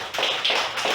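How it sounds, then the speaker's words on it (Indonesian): Applause for a student group after a classroom presentation: a brief burst of many hands clapping together in a room, dense and steady, with no talk. "Mari kita memberikan aplaus kepada kelompok 2."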